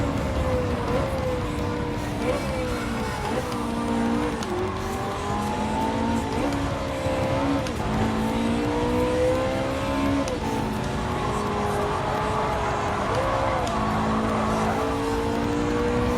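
A race car engine in the video game Gran Turismo 7 drones steadily down the straights, its pitch rising through each gear and dropping at shifts, loud and continuous throughout.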